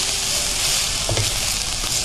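Chopped spinach hits a hot pan with onion for a Kerala cheera thoran, producing a loud, dense sizzle with stirring and scraping through it, close and continuous.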